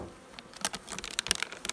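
Honeybees at a hive during spring maintenance make a faint, close buzzing, broken by scattered soft patters and clicks as insects move and strike surfaces.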